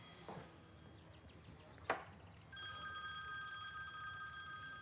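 A mobile phone on a bookcase starts ringing partway through, a steady electronic tone that follows a few faint clicks and a sharp knock in a quiet room.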